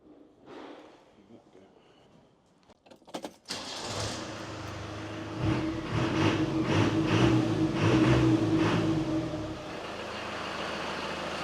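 A Land Rover Defender 300 Tdi diesel engine, freshly fuel-pump tuned and running on a dyno, starts and settles into a loud, steady, clattery idle with brief swells in revs, close by.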